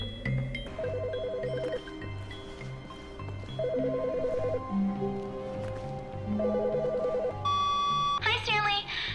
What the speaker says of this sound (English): Stanley's wife can call the phone in Stanley's office at a random point.